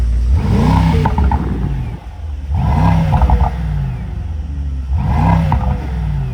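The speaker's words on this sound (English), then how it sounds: "Give it a rev. Has it got a stop limiter?" A Mercedes-AMG GT 63 E engine revs three times in quick succession, each rev climbing then dropping back to a rumbling idle, loud and close.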